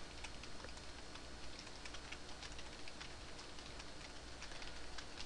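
Soft, steady clicking of a computer keyboard being typed on, quiet and continuous with no pauses or voices.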